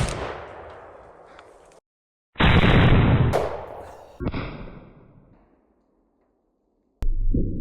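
Winchester 1886 rifle in 50-110 fired into a half-inch AR500 steel plate backed by ballistic gelatin, a few sharp loud blasts with abrupt cutoffs and ringing decays, close and alone.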